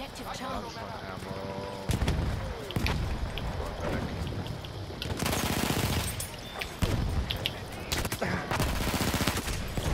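Gunfire from a first-person shooter game, including shotgun blasts and automatic bursts in a forest setting. The shots come in dense, loud volleys and repeated sharp cracks, with a voice talking over them.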